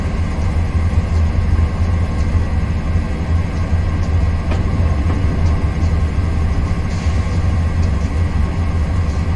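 A locomotive in the Train Simulator 2022 game rumbles steadily on the Arizona Divide route as it slows into Williams, Arizona. The low engine drone and rail noise hold constant throughout, with no voices.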